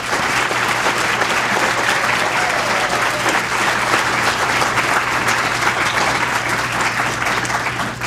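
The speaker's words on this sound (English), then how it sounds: "you deserve a round of applause" Loud, sustained applause from a large audience, a dense wash of clapping that holds steady throughout.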